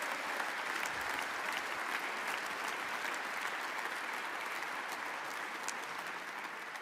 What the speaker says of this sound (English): Let's clap and make them feel welcome.